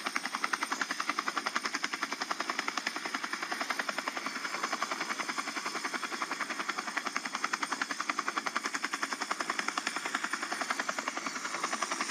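A helicopter flies over a rocket launch site, its fast rotor chop a loud, steady, evenly pulsing beat that keeps going from start to finish with no talk.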